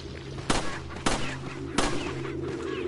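Three sharp Star Handgun shots in Resident Evil 4, evenly spaced about half a second apart, loud and close over a steady rumbling game ambience.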